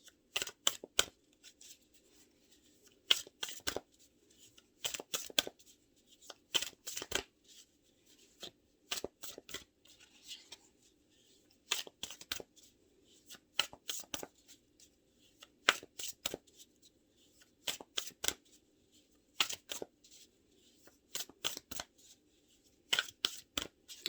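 A deck of cards shuffled for a tarot-style reading in repeated quick riffling bursts, each a crisp flurry of snaps, recurring every couple of seconds against near silence, close and clear.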